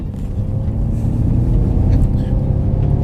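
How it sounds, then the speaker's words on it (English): A 2021 Ford Mustang Mach-E GT Performance electric car accelerating hard, heard from inside as a loud, steady low road and motor rumble with no engine note, lasting a few seconds. "Now I'm gonna test the acceleration."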